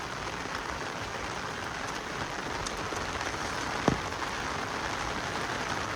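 Heavy village rain pours down in a steady, dense hiss that fills the whole span, with one brief sharp knock midway and no voices.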